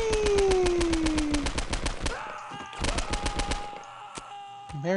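Rapid automatic gunfire from a video game, a loud fast burst of evenly spaced shots with a rising whistle-like tone over it, then a few scattered separate shots as the burst trails off.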